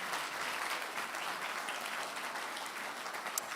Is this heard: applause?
yes